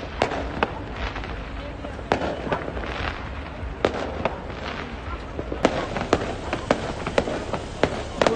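Diwali fireworks crack and pop repeatedly at irregular intervals outside a Sikh temple, sharp bursts over a busy crowd murmur with voices in the background.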